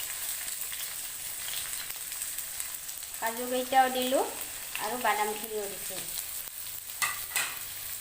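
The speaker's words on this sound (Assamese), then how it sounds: "এইখিনি মই এতিয়া ঘিত ভাজি ল'ম" Onions, cashews and nuts fry in hot ghee in a wok for a mutton curry, giving a steady close sizzle with stirring scrapes. A voice talks over it partway through.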